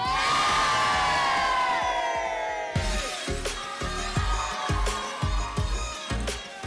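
A crowd cheers and shouts loudly at a riverside fishing event where fish are pulled from a trap set overnight during a Mulud and Tolak Bala tradition; a long sustained roar gives way to rhythmic bursts of shouting.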